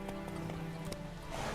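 Hooves of a galloping horse drum quickly and evenly in The Witcher 3 video game, a brief, continuous clip-clop heard up close over the game's steady background ambience.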